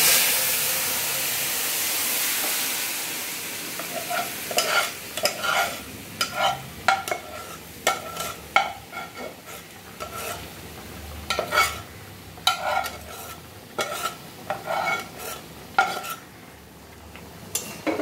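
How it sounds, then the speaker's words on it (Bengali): Lentils and pointed gourd hit a hot wok with a bright sizzle, then a spoon scrapes and clinks against the pan in irregular strokes as the frying continues close up, with no talking. "ফোড়নটা একটু নাড়াচাড়া করে নিয়ে আমরা ডাল আর পটলটা এই কড়াইতে ঢেলে দেব।"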